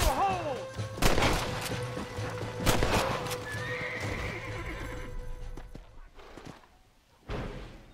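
A horse whinnies loudly several times amid thudding hoofbeats and sharp crashes, with scattered sound effects around it, in the video game Red Dead Redemption.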